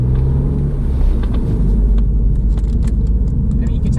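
Road noise and steady low engine drone from a 2020 Ford Fiesta ST MK8 ST-3 with Performance Pack, heard from inside the cabin as it pulls onto a dual carriageway, with someone talking over it throughout.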